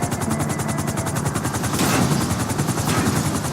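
A helicopter in GTA V comes in to land, its rotor beating in a fast, loud, continuous rhythmic chop with engine whine, close and steady throughout.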